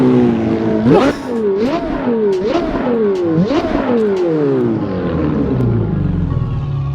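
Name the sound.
Ferrari F430 engine in Assetto Corsa video game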